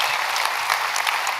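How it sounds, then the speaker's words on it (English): A live audience claps steadily and loudly, a dense, even wash of many hands applauding together without pause. "Can we get a hand of applause for that?"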